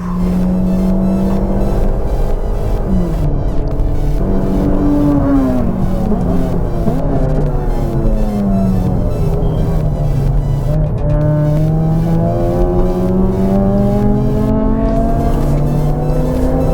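A car driven hard around Sepang International Circuit with its rear end sliding. The engine roars loud and close throughout, its pitch rising and falling steadily with a faint hint of tyre scrub.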